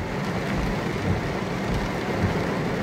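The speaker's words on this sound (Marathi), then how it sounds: "जो आत्ता जो पाऊस पडतोय" Heavy rain pours steadily on a car with the wipers running at high speed in a downpour, a dense continuous roar throughout.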